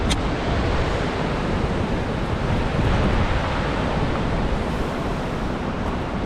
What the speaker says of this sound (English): Check out the river.